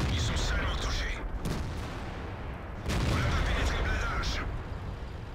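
Tank cannon fire in a tank video game, heavy booming blasts with rumbling tails over constant low engine and battle noise, and bursts of higher crackling in between.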